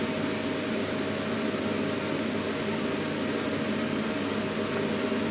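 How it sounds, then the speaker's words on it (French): A steady, loud whooshing motor drone runs unbroken throughout, like a vacuum cleaner running nearby, with a constant mid-pitched whine over broadband noise. "On va attendre que l'aspirateur ait vidé son sac."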